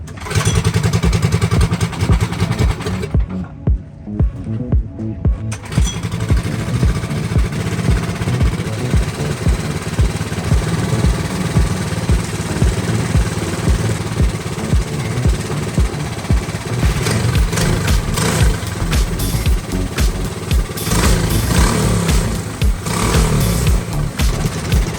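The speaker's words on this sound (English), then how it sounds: "we got the idle dialed in" A cold race car engine idles on a high, steady fast idle, loud and close, with a continuous rumbling drone and rhythmic low pulses throughout, no voices over it.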